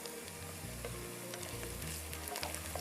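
Soft frying hiss and sizzle from a pan of potato masala base as it is stirred, faint and steady with a low rhythmic scraping underneath, no talking.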